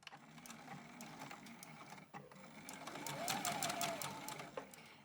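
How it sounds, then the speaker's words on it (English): A sewing machine stitches around the raw edge of a fabric purse bag with a half-inch seam allowance, its steady motor whir running continuously and close, slightly rising in speed partway through. "going to sew around this raw edge of the bag with a 1/2 inch seam allowance"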